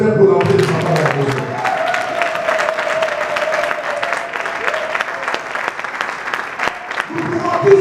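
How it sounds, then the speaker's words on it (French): A church congregation breaks into sustained, loud applause, a dense roomful of clapping hands that swells and holds steadily, with a voice talking briefly at the start and end. "Acclamez le Seigneur pour l'entrée de sa parole."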